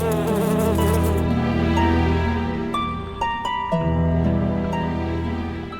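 A dense swarm of honeybees buzzes loudly and steadily throughout, a thick, close drone with shifting pitches and no talking.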